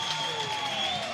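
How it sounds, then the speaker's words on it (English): Spectators cheer and applaud at a diving championship, a broad steady roar of crowd noise lasting about a second with no breaks. "Cheers from the crowd."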